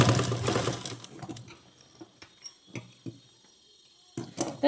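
A sewing machine stitches fabric, with a dense, loud whir at the start that gives way to scattered ticks and clicks of the mechanism as the run slows and stops.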